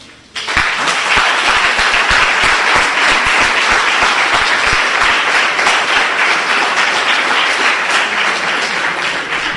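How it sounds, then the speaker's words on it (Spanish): A church or lecture audience breaks into loud, sustained applause after a sudden start, many hands clapping evenly and densely for the full length without any voice over it. "Eso se merece un aplauso."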